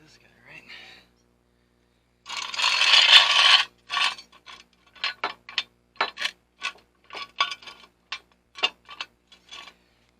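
A jack being cranked up under a 1996 VW Passat TDI, a series of short, evenly spaced metallic ratcheting clicks and scrapes, fairly close, after a brief louder scraping burst.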